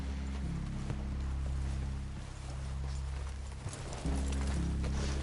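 Horse hooves clip-clopping in Red Dead Redemption 2, a steady walking rhythm from mounts close by over a low, constant rumble of game ambience, with a brief dip in level partway through.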